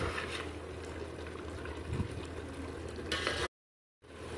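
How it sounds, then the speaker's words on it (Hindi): Mutton sizzling in oil with spices over a medium flame, a steady low frying crackle that runs continuously before a brief gap of silence. "अब हम सारी चीज़ों को मिक्स करेंगे और मीडियम फ्लेम पे रख के हमने गोश्त को अच्छे से भून लेना है।"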